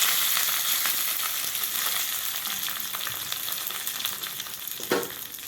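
Mustard seeds, urad dal and dried red chillies fry in hot oil for a tempering, a steady close hiss and crackle throughout with one brief sharper sputter near the end.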